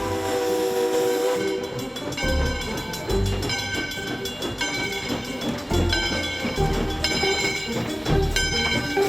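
The Essex steam train on a Polar Express holiday ride sounds with sustained whistle tones and steam hiss, loud and close, rising and falling in pulses.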